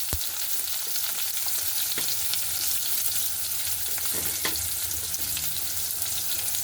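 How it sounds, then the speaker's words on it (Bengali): Onion fries in hot oil tempered with black cumin seeds, a dense, even hiss of sizzling held steady from start to end, with faint stirring taps and no talk. "এবার আমি একটু পেঁয়াজটাকেও সামান্য লাল লাল করে ভেজে নেব।"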